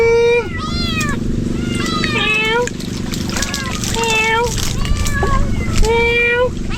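A cat caught by a river meows repeatedly and loudly up close, a string of rising and falling cries over running water and background voices.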